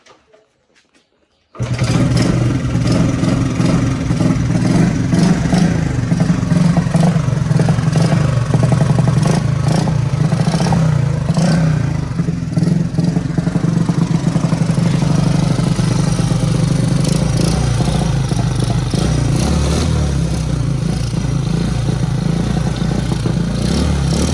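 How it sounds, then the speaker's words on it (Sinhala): After a brief quiet moment, a Honda Super Cub motorcycle engine, converted from platinum points to CDI ignition, catches and runs loudly and steadily at close range, idling with rattly clatter throughout. "එහෙනම් අපි ස්ටාර්ට් කරලා බලමු බයික් එක."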